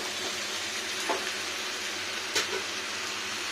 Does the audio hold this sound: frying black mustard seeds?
yes